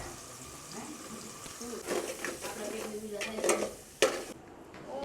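Onion, tomato and Maggi masala cooking in a pan make a low sizzle under a voice, with stirring scrapes and sharp clinks of a spoon against the pan toward the end.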